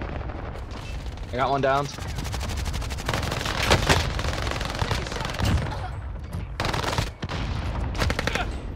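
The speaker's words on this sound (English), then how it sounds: "Allied cluster strike arriving." Cluster strike explosions in Call of Duty Warzone rumble in a dense, rolling barrage of booms and rapid gunfire-like bursts, loud and continuous, while a player talks briefly over them.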